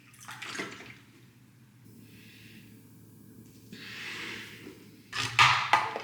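Water pours and splashes steadily into a gallon water bottle being refilled, with a louder gush near the end; faint breathing and rustling sit underneath.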